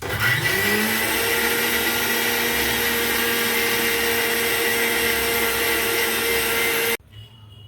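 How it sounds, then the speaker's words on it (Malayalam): A kitchen mixer grinder blends curry paste of coconut and spices for a prawn and tomato curry. The motor holds a loud, steady whine for about seven seconds, then cuts off abruptly, leaving near silence. "നമുക്കിത് മിക്സിയിൽ അടിച്ചെടുക്കാം."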